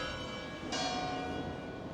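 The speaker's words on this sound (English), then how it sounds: "We got some church bells going off." Church bells ringing in the distance along a walking route between Portuguese towns, a faint sustained metallic chime over steady background noise.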